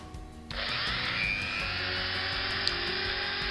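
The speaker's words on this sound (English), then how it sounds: "Put a bit more oil in and a bit more drilling." A Dremel rotary tool drills steadily into a Matchbox Ford Galaxie model car, a loud continuous high-pitched whine that starts abruptly and holds without pause, close up, with no talking.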